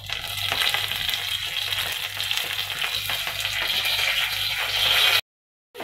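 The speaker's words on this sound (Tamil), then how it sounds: "இப்போ கடுகு வந்து பொரிஞ்சிருச்சுங்க. இப்போ வந்து வெந்தயம் போட்டுக்கோங்க." Mustard seeds and fenugreek sizzle and crackle in hot oil while being tempered, a dense, steady frying hiss close up that cuts off abruptly near the end.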